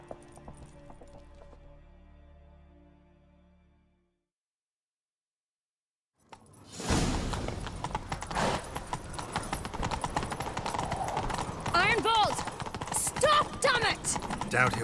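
Horse hooves gallop in The Witcher 3, a loud, steady rhythmic clip-clop that bursts in after a few seconds of quiet and carries on through the rest, with game effects mixed in.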